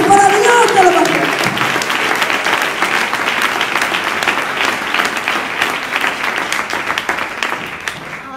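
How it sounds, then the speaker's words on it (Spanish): A church congregation claps in steady, full applause, a thick crowd of hands filling the room with a faint rhythmic pulse, after a brief voice at the start. "Denle un aplauso a la gloria de Dios."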